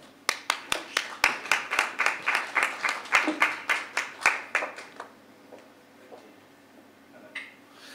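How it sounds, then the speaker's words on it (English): A puppetry keynote audience claps together in a steady, well-spaced run of crisp claps that peaks and then fades to scattered claps and quiet by about five seconds. "Please give him a round of applause."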